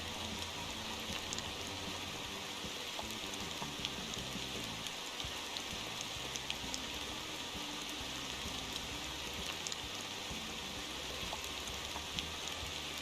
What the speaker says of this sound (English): it's raining just as I'm about to go onto dirt